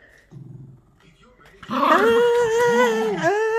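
A dog gives a few low, soft grumbles, then breaks into a louder, drawn-out growling whine close by.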